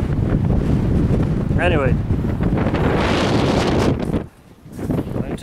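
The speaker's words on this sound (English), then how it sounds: "it is very windy and very cold" Strong gusts batter a microphone beside the Ben Aketil wind farm on the Isle of Skye, a loud continuous roar that drops out briefly near the end; a voice speaks a short word partway through.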